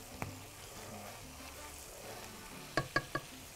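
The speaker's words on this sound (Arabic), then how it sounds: "نقلبه كويس كده" Meat frying in a pan with onion and salt, stirred with a utensil: a soft continuous sizzle with a few sharp scraping clinks near the end, close and quiet.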